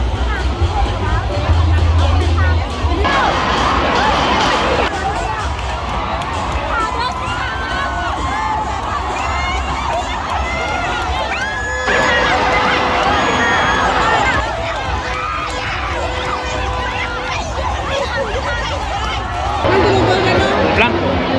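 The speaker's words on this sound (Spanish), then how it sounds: "Allá vienen remando, por eso la gente está gritando más y aplaudiendo." A crowd on a riverbank in Laos shouts, cheers and applauds as rowers approach in a boat race, a loud, continuous roar of mixed voices with surges and children's shouts, and nearby people talking throughout.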